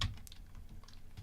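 Steady typing on a computer keyboard, quick soft clicks in an uneven rhythm, close and quiet with no voice over it.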